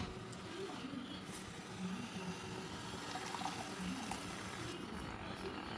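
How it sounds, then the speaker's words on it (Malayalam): Coconut milk is poured into a pan for a simple milk-tapioca (paal kappa) dish, giving a steady, soft liquid wash that runs the whole time under a faint background murmur. "കോക്കനട്ട് മിൽക്ക് ഒഴിക്കാം."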